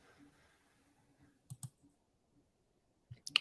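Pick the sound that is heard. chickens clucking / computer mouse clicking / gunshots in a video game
computer mouse clicking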